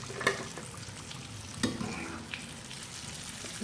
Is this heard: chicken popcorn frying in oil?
yes